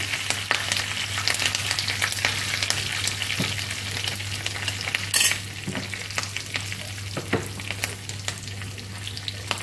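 Curry leaves crackle and splutter in hot sesame oil in a pan on a low flame, a dense continuous frying hiss with sharp pops throughout, steady over a low hum.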